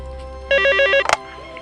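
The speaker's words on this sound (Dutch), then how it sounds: "Daar gaat de telefoon nog eens." An old-fashioned telephone bell rings in one short, loud burst of rapid trilling, followed by a brief clattering click, then quiet room tone.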